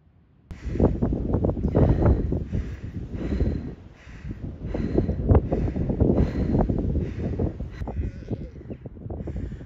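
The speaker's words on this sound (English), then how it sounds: "And although it's windy, the weather is much improved." Steady wind buffets the microphone with a loud, rumbling roar that surges and eases on a farm during lambing season, with a few faint bird calls in the background.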